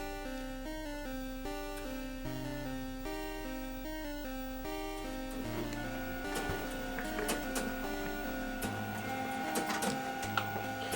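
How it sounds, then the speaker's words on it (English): A printer starting up and calibrating indoors gives a long steady whirring drone of motor tones with shifting pitches and clicks, fairly close and continuous. "That was a prime time for the printer to kick on."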